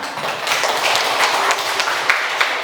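Classroom applause, a dense, close burst of students clapping that runs steadily for a few seconds with no talking over it.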